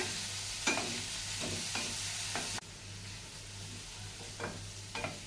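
Tomatoes sizzle steadily in a pan for jackfruit seed curry, and a spoon scrapes and stirs them in several soft, close strokes, with no talk.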